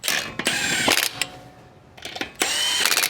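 Impact wrench run on its lowest setting to fasten lug nuts on a 2012 Honda Civic EX during a tire rotation, loud ratcheting bursts of hammering with a short quiet gap before a final burst.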